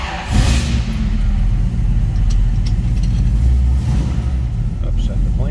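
A 1963 Chevrolet Bel Air two-door post's engine runs, a close, loud low rumble steady throughout with small swells, under a voice talking.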